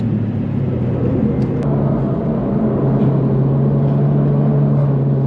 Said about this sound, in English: I'm doing this corner at 155 k's an hour.